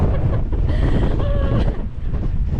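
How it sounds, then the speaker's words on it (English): Strong wind buffets the microphone on the Dingle coast cliffs along the Wild Atlantic Way, a loud continuous roar with gusts and distant surf beneath it. "It's proper windy down here."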